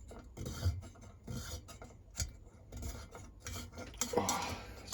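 Part of a vintage Bialaddin paraffin lamp being unscrewed anti-clockwise by hand, close scraping and rasping metal-on-metal turns in short irregular bursts, fairly quiet with no speech.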